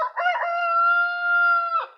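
A rooster crows once nearby on a snowy homestead, a loud drawn-out cock-a-doodle-doo that opens with choppy notes, holds a long steady tone and ends with a short rasp, with no one talking.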